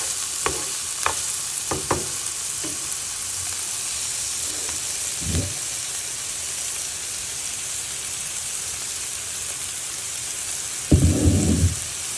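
Chopped onions frying in oil in a pan, a steady hiss running throughout, with scattered scraping stirs near the start and a louder burst of stirring toward the end.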